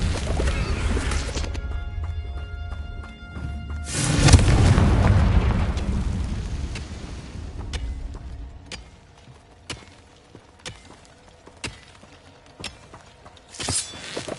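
A Confringo blasting spell explodes in Hogwarts Legacy with a deep, loud boom that swells and rumbles for a couple of seconds, followed by scattered crackles, small pops and footsteps in a quieter game soundscape.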